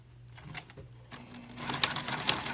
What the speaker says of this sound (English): now we're just going to stitch across these two short edges here